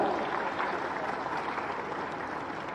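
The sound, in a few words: audience applause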